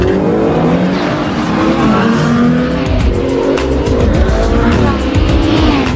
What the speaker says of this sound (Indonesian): Sylvain langsung gaspol ikut balapan melawan supercar itu